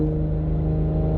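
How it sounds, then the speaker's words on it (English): A 2019 Toyota Supra with a tune, held back by valet-mode speed and throttle limiters, drones steadily under full throttle, its engine note even and sustained throughout. "So I am literally flooring the gas right now."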